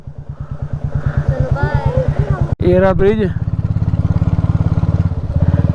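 Motorcycle engine idling and revving on a road in Ladakh, between Hunder and Turtuk, with a steady rapid thumping pulse throughout, a brief cut-out midway, and someone speaking over it.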